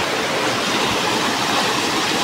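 A river in the Konkan region rushes with a dense, steady roar of flowing water, loud and constant throughout with no distinct breaks and no voices.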